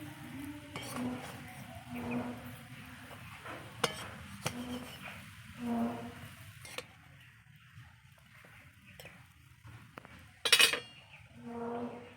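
Eggplant slices dry-fry in a pan without oil and are flipped, bringing soft scraping and clinking of a utensil against the pan, a few sharp clatters, and a faint sizzle, fairly quiet and close.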